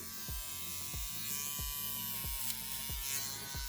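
A small Wahl 5640 Micro Groomsman trimmer with an aluminum body buzzes steadily at close range, a thin electric whine with faint periodic ticks as it trims nose hair, no talking.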